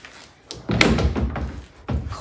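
Double closet doors in a newly built house in San Antonio, Texas, opening with a couple of nearby knocks and thuds followed by a short rattling slide.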